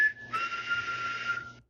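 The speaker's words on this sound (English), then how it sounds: "I have also heard that exact same whistle in my house" A single clear whistle, reportedly heard in a house, holds a steady high tone for about a second after a short lower lead-in, then stops abruptly in otherwise quiet surroundings.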